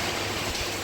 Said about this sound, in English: I'm going to see a little clippings of the rain and the breeze